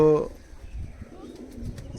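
An Oman teddy pigeon gives one short, loud coo right at the start, then only faint, low rustling follows.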